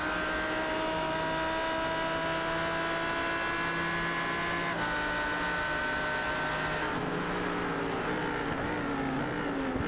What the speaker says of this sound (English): Audi V10 engine sounds like this.